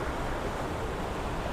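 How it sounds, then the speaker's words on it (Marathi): A forest stream in a Konkan sacred grove washes along steadily as someone wades across it, a constant close rushing hiss with no talk. "हा अतिशय सुंदर ओढा आहे, क्रॉस करतोय."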